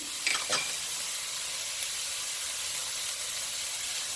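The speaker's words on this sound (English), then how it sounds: "I'm going to add the whites of 2 scallions, just the whites going in." Scallion whites frying in a pan with beef for pepper steak, a steady loud bright sizzle with a couple of brief clicks near the start, no speech.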